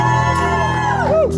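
A concert crowd at Melkweg in Amsterdam cheers, whoops and shouts loudly and close, with excited voices rising in pitch over a dense roar.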